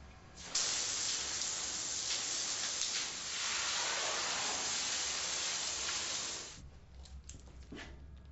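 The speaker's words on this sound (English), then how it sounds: "Apply foam to the floor." Cleaning foam blasts from a spray gun onto a floor in a steady, loud hiss that runs for about six seconds before cutting off, leaving quiet clicks and faint room noise.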